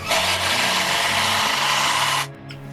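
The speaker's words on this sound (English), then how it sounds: "I'm using 14 gauge 100mm heavy timber screws and always pre-drill my holes." A power drill whirs loudly for about two seconds driving a 14-gauge 100mm timber screw into pre-drilled timber, then cuts off abruptly, leaving a quiet hum.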